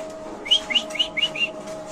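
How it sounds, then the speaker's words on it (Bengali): A young male pigeon of an Andalusian bloodline gives five quick, high, faint peeps in a row, with a steady low hum in the background. "এটা হচ্ছে নর কবুতর"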